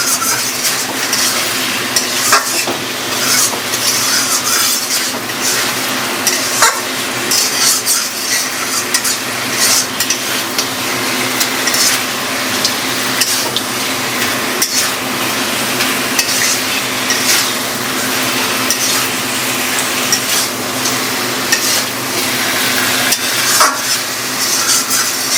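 Desi chicken sizzles in a pan as kosha curry is stir-fried, the meat cooking in its own released water, with steady frying hiss and repeated scraping of a spatula against the pan throughout and no talking.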